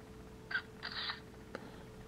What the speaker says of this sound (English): You heard the camera shutter.